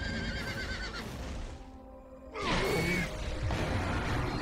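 A horse, Pegasus, whinnies amid a busy, layered soundtrack in the video game God of War II (2007), followed by a sudden loud whooshing crash.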